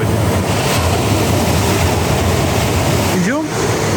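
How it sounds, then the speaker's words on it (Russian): Rough sea surf rolling onto a shore on a windy evening, a steady loud wash with wind buffeting the microphone throughout. "посмотрите, как будто волны стали еще сильнее"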